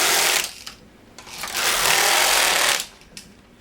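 A Passap knitting machine knitting sock yarn, its carriage sliding across in two loud, close, rasping passes of a second or so each, separated by a brief quieter gap.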